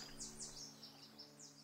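Birds chirp in a seaside scene from the fighting game Persona 4 Arena Ultimax, with a handful of quick, high tweets repeating faintly over a steady low hum.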